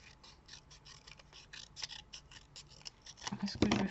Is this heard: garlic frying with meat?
no